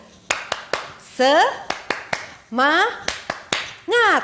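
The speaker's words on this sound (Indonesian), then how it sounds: "Yuk bersama-sama kita tepuk tangan" Children clap hands together during a church children's devotion, in short rhythmic bursts of sharp claps, each bracketed by loud, energetic shouted calls from a voice.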